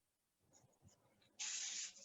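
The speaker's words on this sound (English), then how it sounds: "Spray a little bit" Hairspray sprays onto back-combed hair during editorial styling, one close, strong hiss lasting about half a second after a few faint rustles.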